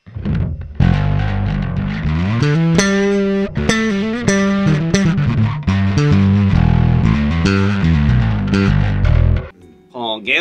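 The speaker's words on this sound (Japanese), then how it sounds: "これが 歪み。" An electric guitar played through a distortion effects pedal on a pedalboard gives loud, thick, saturated chords and sustained notes, with a brief drop near the end before it resumes.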